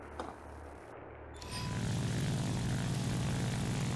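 A Focke-Wulf propeller plane's engine in War Thunder rises from quiet into a loud, steady drone with a low buzzing hum that holds for the rest of the moment, close and continuous with no talk.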